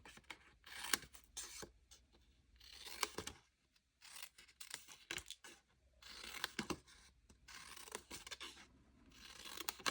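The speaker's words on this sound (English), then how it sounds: "It's always good to have really nice sharp scissors for this" Scissors snip through paper in a series of short crisp cuts with brief pauses between, close and quiet.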